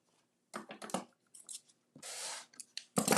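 Scissors snip through paper in several close, crisp bursts, including one longer continuous cut, with brief pauses between them and no talking.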